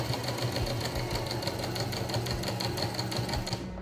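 A sewing machine runs steadily, stitching a railroad zipper seam with a 1-inch seam allowance, its motor giving a continuous close whir with a fast, even stitch rhythm throughout.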